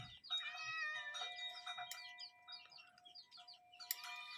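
A cat meows repeatedly, high and insistent, close by with short pauses between calls.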